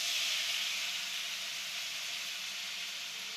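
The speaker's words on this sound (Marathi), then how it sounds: "आता तेल गरम झाले आता आपण हे वाटण टाकून घेऊ" Ground masala paste sizzling in hot oil for a fish head curry, a loud, constant hissing sizzle that holds steady throughout with no breaks and no talking.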